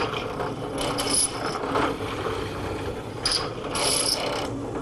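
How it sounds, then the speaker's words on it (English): Drill press whirring and grinding in uneven bursts, with ratcheting, rasping contact noises as a bit bores mortises into wood, close and fairly loud. "Now we'll make those mortises over on the drill press."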